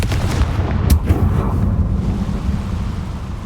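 A Confringo fire spell blasts in the Hogwarts Legacy game, a loud crackling explosion with a sharp burst near the start followed by a rumbling tail that fades over a few seconds.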